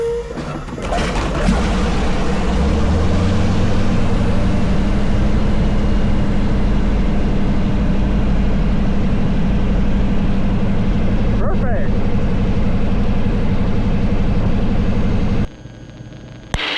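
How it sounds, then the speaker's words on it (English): Yak 52 aircraft engine idling after startup, a loud, steady low drone heard from close by that runs continuously before cutting off abruptly near the end, with voices briefly audible over it. "Engine is running smoothly and good."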